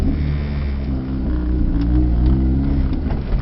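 A 2005 Lotus Elise pulls away and accelerates with a loud, close engine drone that holds steady and then rises slightly, with no voices.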